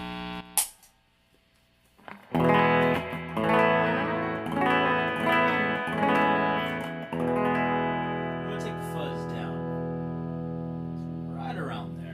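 An electric guitar plays a clean, slightly muffled tone. Notes ring out and sustain, and a low hum sits underneath.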